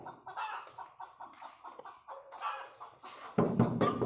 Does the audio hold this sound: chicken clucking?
yes